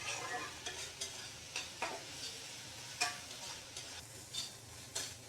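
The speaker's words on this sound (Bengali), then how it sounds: "এবার শুটকি, পেঁয়াজ এবং রসুনগুলো একদম ভাজা ভাজা করে নিয়েছি" Dried fish, onion and garlic fry in a pan, a soft sizzle broken by regular scraping strokes of a spatula stirring about every half second, close and fairly quiet.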